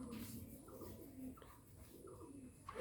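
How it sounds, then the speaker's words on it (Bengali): A Giribaz green-necked pigeon coos softly in a few low, rolling phrases close by, with faint background noise and no talk. "অনেক সুন্দর একটা কবুতর।"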